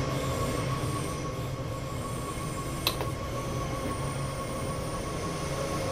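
A train pulling away in the Train Sim World 4 video game, with a steady low rumble of wheels on rails, a faint high squeal and one brief sharp click partway through.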